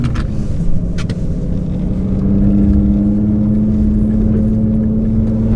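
Small car on snow tires cruising along a main road at higher speed: a loud, steady engine drone and road rumble, with a humming tone rising slightly as it speeds up, heard from inside the cabin with no talking.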